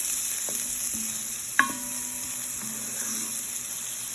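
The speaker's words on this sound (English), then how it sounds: "Let's add the onions to it, chopped onions. Give it a proper stir" Chopped onions frying gently in a pan over very low heat, a low steady sizzle with a few stirs and one sharp clink of a utensil against the pan, no speech.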